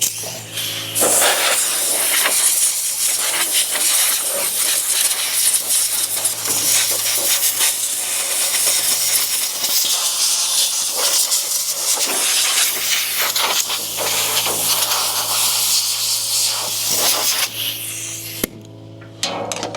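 An air compressor's nozzle blows out the area around a chain, a loud continuous hissing rush of air lasting almost twenty seconds with a low hum underneath.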